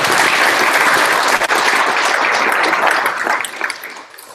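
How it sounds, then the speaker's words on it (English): Loud, dense applause from a conference audience for a speaker at a tech talk, many hands clapping steadily before tapering off near the end. "round of applause for Mike Houston"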